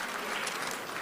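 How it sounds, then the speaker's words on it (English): A brief burst of audience applause at a university alumni meet, a faint, steady patter of many hands heard from a distance. "A bigger round of applause."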